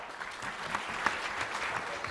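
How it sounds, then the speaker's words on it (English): Audience clapping at a quiz round during an ISACA Mumbai chapter annual conference, a steady, moderately loud wash of many hands with no voices on top. "give a good clap"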